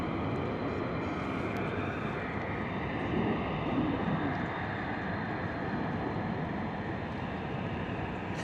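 F-15 fighter jets skimming low along the top of a hedgerow near RAF Lakenheath, heard as a continuous broad engine roar at moderate distance, steady throughout with no voices.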